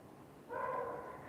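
A single muffled dog bark or yelp sounds from a short distance, brief and moderately faint against a quiet indoor background.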